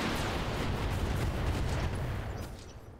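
Mech weapons firing in the video game RogueTech, a dense continuous rumbling barrage of booms and blasts that fades slightly toward the end, loud and heavy with no speech.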